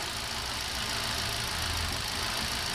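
A Hyundai Accent engine idling roughly with an ignition coil connector unplugged, a steady loud mechanical drone with a faint uneven pulse and no talking.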